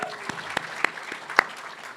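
Sparse applause from the audience at a moot court finals competition, with a handful of distinct, crisp claps spaced irregularly over a soft background of lighter clapping.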